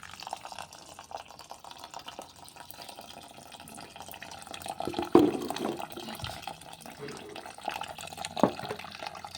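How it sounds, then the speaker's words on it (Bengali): A thin stream of tap water runs steadily while rice is washed in a kitchen, with a faint continuous trickle and a few louder splashes. "চালটা ভালো করে ধুয়ে নিই। আর জলটা দেখো একদম সরু হয়ে গেছে"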